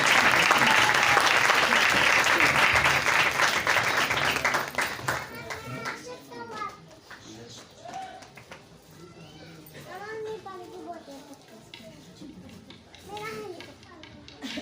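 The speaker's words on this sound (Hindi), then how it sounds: "जोरदार तालियों से हम बहुत सारा बरकत दें।" Loud applause fills a church during a Sunday service, dense clapping for the first few seconds before fading out, after which a voice speaks over quieter room sound and scattered noise.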